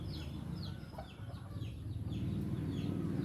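A hen and her chicks cluck and cheep close by, with repeated high chirps from the chicks drifting over a low busy murmur of farmyard sound and no talking.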